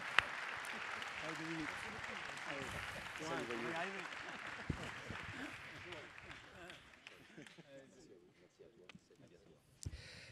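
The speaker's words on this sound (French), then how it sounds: "je vous remercie de les applaudir pour le travail qu'ils effectuent au quotidien pour leurs administrés" Applause from a congress audience in an auditorium, a dense wash of clapping that swells early and then thins and fades toward the end, with voices mixed underneath.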